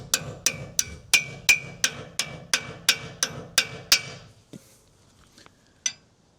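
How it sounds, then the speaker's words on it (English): Metal for a car air intake on a Nissan Primera P10 is struck by a hammer, about ten sharp, evenly spaced ringing blows in quick succession, then a few scattered lighter taps after a pause. "Let's hammer this from about there."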